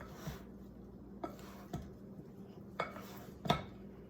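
Vegetables being mixed in a bowl for a keto pizza bake, heard as a few scattered, fairly quiet clinks and scrapes of utensil against bowl with soft rustling between, ending on a sharper clatter.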